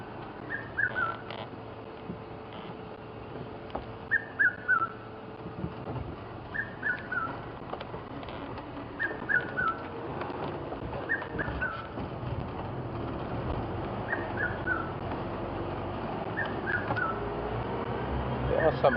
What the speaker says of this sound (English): Red-chested cuckoo calling above us.